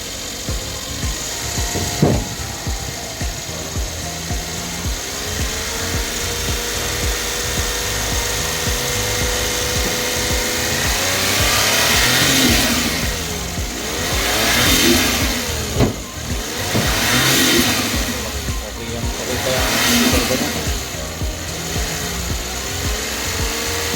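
Turbocharged Suzuki DA64V engine revved repeatedly, with several rising and falling surges over a steady idle, close and loud.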